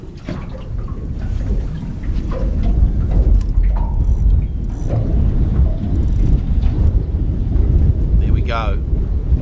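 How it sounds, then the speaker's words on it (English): Strong wind buffets a boat swinging at anchor in a bay near sunset, a loud, continuous rumbling roar with gusty swells and occasional splashes, while someone speaks briefly over it. "another big gust is about to hit."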